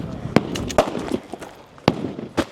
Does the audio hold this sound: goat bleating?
no